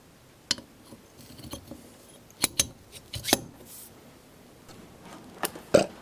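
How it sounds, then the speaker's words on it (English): Hand cutter scraping and clicking against valve seats on a Lister CS Broomwade compressor head, sharp metallic ticks and scrapes scattered irregularly over quiet room tone. "now we've got the valve guides in, we can cut the seats back"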